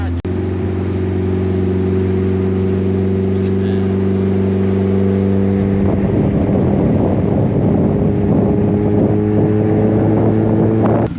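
A Mazda Miata drives along, its engine humming as a steady droning tone from inside the car, then roughening and shifting pitch as it works harder, with wind noise in the background.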